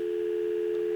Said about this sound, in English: and you have outside dial tone.